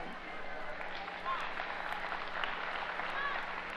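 Steady applause from a Columbus Day audience at a live comedy show, a continuous wash of many hands clapping at moderate distance, with no pauses across its few seconds.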